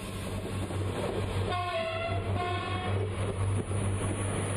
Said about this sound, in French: Les seuls bruits qu'on puisse entendre proviennent des passages du train de la côte.